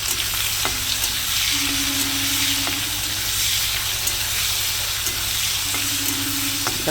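Dal with salt and turmeric being stirred in a pan, giving a steady scraping, sizzling stir with a faint tonal hum beneath, continuous and fairly close.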